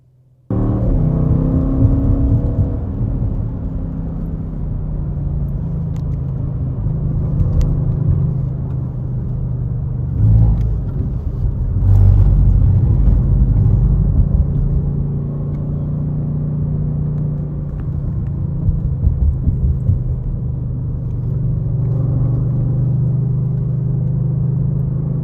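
A 2024 Audi RS 6 Avant Performance pulls away and cruises, a loud low engine rumble and road hum from inside the cabin, swelling gently with mild acceleration and holding steady throughout.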